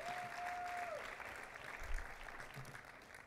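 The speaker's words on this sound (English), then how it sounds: "So please give a round of applause to Shaka Singor, Jessica Jackson, and all th" Audience applause in a crowded hall, a dense wash of clapping that carries on steadily and fades slightly toward the end, with a faint held tone at the start.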